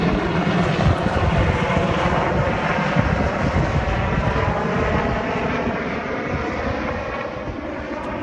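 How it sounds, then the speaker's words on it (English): A loud, continuous helicopter rotor-and-engine roar drones steadily, close and unbroken, with no voices, at a beach in Key West. "see the helicopter?"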